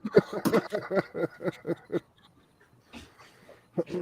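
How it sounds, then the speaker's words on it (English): Husky dogs pant in quick rhythmic bursts, close by, then pause briefly before the panting resumes. "That's a lovely dog, man."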